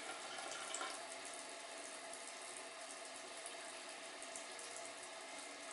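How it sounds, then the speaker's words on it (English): Tap water running steadily through a household water meter, a faint, even hiss of flow that continues unchanged with no talk. "I'm going to turn water on"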